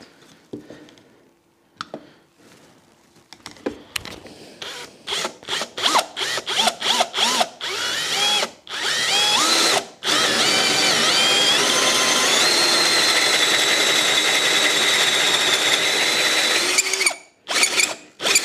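Drill fitted with a Parkside adjustable hole saw, stuttering trigger bursts, then a sustained loud whirring cut with a squealing edge, stopping briefly before final short pulses.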